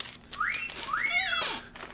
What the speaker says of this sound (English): That's her whistle.